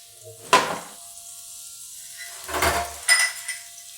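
Kitchen cooking noises of clattering dishes and sizzling food, arriving as a short clatter near the start, then a louder burst of clinks and frying sizzle a couple of seconds later, with quiet stretches between.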